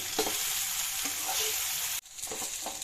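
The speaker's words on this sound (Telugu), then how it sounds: "ఒకే పక్క కాకుండా తిప్పుతూ మనం కలుపుకోవాలి." Chillies fry loudly in a hot pan of oil, sizzling steadily close up while a spoon stirs and turns them, and a brief break in the hiss is followed by more sizzling and stirring scrapes.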